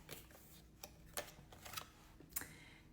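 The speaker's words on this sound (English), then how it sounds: "let's do another shuffle" Tarot cards being shuffled during a reading: soft riffling and tapping in several short, irregular bursts, close and quiet, with no talk.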